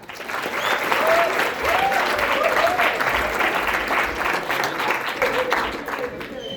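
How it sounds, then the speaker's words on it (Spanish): Audience applause after a lecture at a university biological-pharmaceutical science outreach event: sustained, loud clapping from a crowd lasting several seconds, with a few faint voices mixed in and a gradual fade toward the end. "Otro merecido aplauso para la maestra Teresa Guadalupe Rodríguez Telles"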